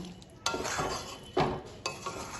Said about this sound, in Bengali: এক কাপ মতো গরম জল ঝোলের সাথে মিশিয়ে নেব